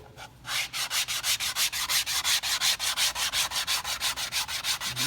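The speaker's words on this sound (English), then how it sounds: "I'm going to use a sanding block, a flat block, and this is 150 grit paper" Rhythmic back-and-forth strokes of a flat sanding block with 150 grit paper on a wood rosette inlay, about twenty even rasping passes, close and alone.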